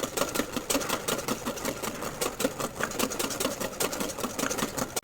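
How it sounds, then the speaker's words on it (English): A whisk beats egg mixture for hollandaise sauce in a bowl, a rapid continuous metallic clatter with a fast back-and-forth rhythm, close and fairly loud with no talking. "Whisking action is backwards and forwards in a figure eight pattern, not around in a circle"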